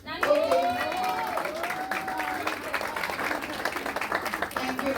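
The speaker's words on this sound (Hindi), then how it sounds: "नानी के लिए तालियां।" Wedding guests applaud a grandmother at a church wedding in Bengaluru, steady clapping from a crowd continuing throughout, with a voice speaking over it early on.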